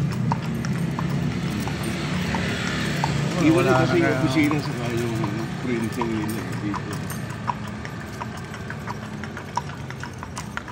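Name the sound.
horse hooves clip-clopping, horse-drawn kalesa in Intramuros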